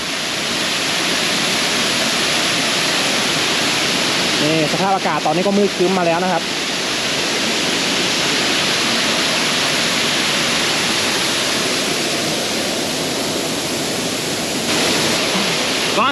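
A small two-tiered forest waterfall pours through rock crevices in a constant, close, full rushing roar, with someone speaking briefly over it.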